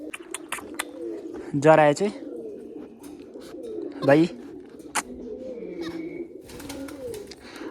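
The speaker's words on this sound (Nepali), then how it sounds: "सेतो खालको परेवा र अनि कालो खालको परेवा चाहिँ रहेछ" Pigeons, both white and black, coo repeatedly in a park enclosure with rabbits nearby, soft throaty calls recurring under people talking, with a couple of louder bursts standing out.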